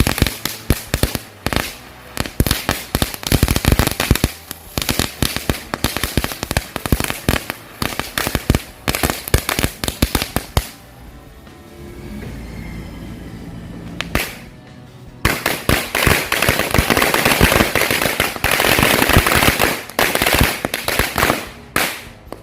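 Rapid strings of XXL firecrackers crackle and pop loudly in a Lebaran Idul Fitri 2026 celebration, dense bursts that pause briefly into a hiss before another long crackling barrage erupts.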